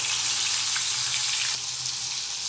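Chopped tomatoes go into a hot pan while cooking guar bhaji, and a loud, steady, close sizzle fills the clip before dropping slightly in level partway through.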